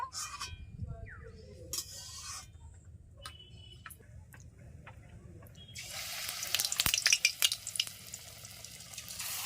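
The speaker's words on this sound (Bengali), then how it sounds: "এইভাবে পকোড়াগুলো ভেজে নেব।" Potato pakoras deep-frying in oil: quiet scattered ticks and clinks give way to a loud, dense bubbling sizzle that fills the second half of the clip, with no voices.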